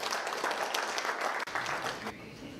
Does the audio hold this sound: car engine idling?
no